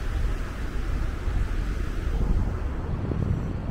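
Wind gusts steadily across a long Mallorca beach, a broad continuous rushing roar buffeting close over distant surf, with no voices.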